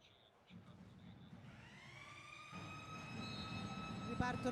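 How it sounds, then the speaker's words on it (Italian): A rising wailing siren swells over a crowd and drumming in a men's Serie B volleyball arena, growing louder toward the end, with an announcer talking over it. "Ripartono i tamburi, la sirena."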